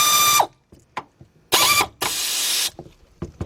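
A ratchet works a bolt on the rear brake of a 2007 Honda Accord in loud, sharp bursts of rapid clicking. The bursts are separated by quiet gaps and softer knocks of the tool. No one speaks.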